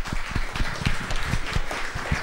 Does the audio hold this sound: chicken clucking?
no